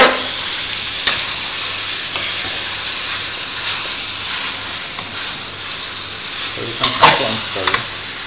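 Steady hiss of pork and prawns frying in a pan for Nyonya babi pongteh, a constant sizzle with a few sharp clinks of utensils, while a person talks.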